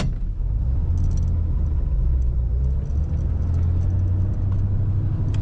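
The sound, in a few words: 1941 Cadillac Series 62 coupe driving on road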